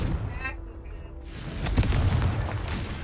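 A Confringo fire spell goes off in a video game: a fiery whoosh swells into a booming blast with a rumbling tail, after a brief spoken voice and a quiet tone.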